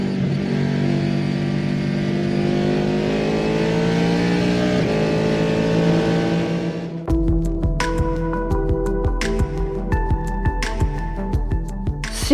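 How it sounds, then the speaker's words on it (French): A Panoz Roadster open prototype race car with a front-mounted 6-litre Ford V8 roars loudly and climbs steadily in pitch for about seven seconds, then gives way abruptly to sharp, clattering, percussive sounds. "Panos engage aussi un proto ouvert avec la Roadster et son moteur avant Ford Elan V8 de 6 litres"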